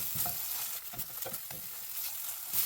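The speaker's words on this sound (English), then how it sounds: "put dry spice and saute" Dry spices for chickpea masala sautéing in hot oil in a pan, a soft steady sizzle broken by light scraping stirs of a spoon, close and fairly quiet, with no talking.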